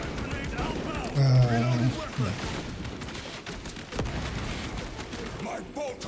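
Bolter gunfire in a shooter video game crackles in dense bursts against a busy battle backdrop of booms and effects, with a brief voice heard over the din.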